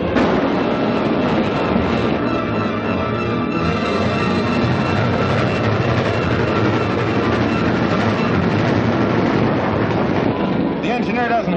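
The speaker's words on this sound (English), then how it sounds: "Sergeant Royal, we have to stop this train." A moving train rumbles steadily and loudly throughout, a dense continuous roar with rattling and wind rush and no pauses, in an old 1948 film serial.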